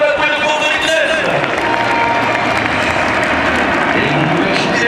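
Outdoor crowd applauding the Patrouille de France aerobatic team at an air show, a steady dense wash of clapping mixed with crowd noise and voices throughout.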